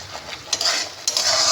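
Prawns sautéing with onion paste in a pan, a close hissing sizzle that swells as the mixture is stirred, in short bursts with no talk.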